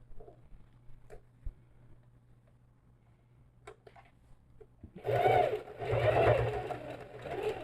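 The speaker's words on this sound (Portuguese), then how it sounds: "para que eu possa vir e fazer a costura de pesponto" Sewing machine topstitching a lined fabric pouch, starting after a quiet stretch of faint handling noises and running in two close, loud whirring bursts with a brief pause between them.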